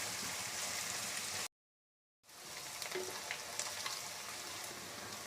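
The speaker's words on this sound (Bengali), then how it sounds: "হালকা ব্রাউন করে ভেজে নেব পেঁয়াজ।" Chopped onions frying in a pan until light brown for a Bengali cabbage curry with fish head, a steady close crackling sizzle interrupted by a brief silence, then resuming with small stirring clinks.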